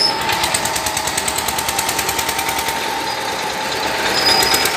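A Break Dance amusement ride runs at a Srikakulam exhibition, pounding out a loud, fast, steady mechanical rattle with a constant hum beneath.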